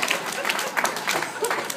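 Sparse, scattered clapping greets Tim Bradley at a comedy roast, a thin patter of a few hands that fades quickly amid faint room murmur.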